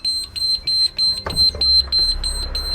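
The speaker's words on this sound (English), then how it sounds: "as soon as you do this, an alarm will sound" A loud, rapid electronic train door alarm beeps in a steady repeating pulse, high-pitched and insistent, with a brief clunk partway through, sounding after the red door release handle is lifted.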